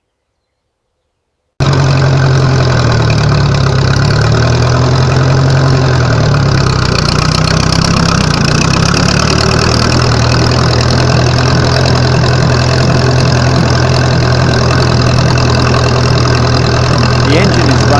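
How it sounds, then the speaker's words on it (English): A Ferguson TEA20 tractor engine idles loudly and steadily after a short silence, its low throbbing hum holding an even, unbroken rhythm throughout. "The engine is running sweetly."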